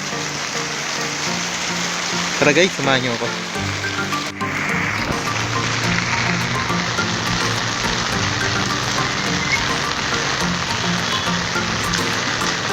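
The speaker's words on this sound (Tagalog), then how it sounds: "susubukan kahit umuulan" Steady heavy rain hisses throughout, close and loud, with a person speaking briefly near the start and faint frog croaks in the background.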